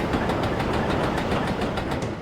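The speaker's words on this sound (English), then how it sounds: "Class 15 in Train Simulator Classic." A Class 15 locomotive running in Train Simulator Classic gives a steady, loud diesel drone with a rhythmic clickety-clack from the wheels, heard alone without any talk.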